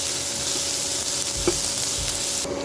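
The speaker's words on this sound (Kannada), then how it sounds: "ಸೊ ಇದನ್ನು ಈರುಳ್ಳಿಯನ್ನು ಈಗ ಚೆನ್ನಾಗಿ ಫ್ರೈ ಮಾಡ್ಕೊಳ್ಳುವ." Onions fry in a pan for curry leaves chitranna, giving a steady, close sizzle with one brief clink of stirring partway through.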